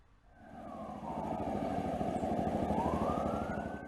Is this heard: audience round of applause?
no